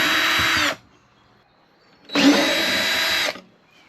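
A power drill backs screws out of an RV dinette table in two loud, close bursts, each just under a second and a half long, separated by a quiet pause.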